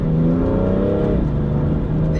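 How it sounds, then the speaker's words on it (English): BMW F80 M3 Competition with the S55 engine revving, a loud, close, continuous engine drone whose pitch holds steady and then shifts partway through, with no talking. "I really love like the S55 engine."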